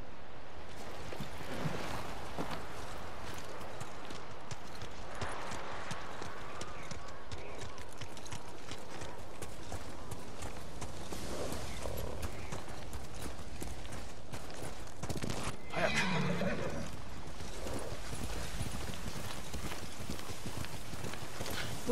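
A horse ridden through snowy weather in Ghost of Tsushima, with steady clip-clop hoofbeats running throughout over wind and ambient noise, plus a brief louder burst of movement midway.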